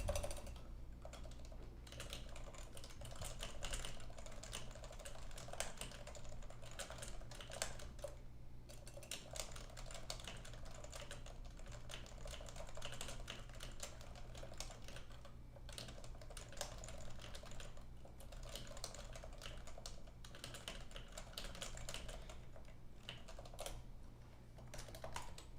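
Computer keyboard typing, a quiet run of scattered key clicks in irregular bursts with short pauses, close to the microphone against a low background hum.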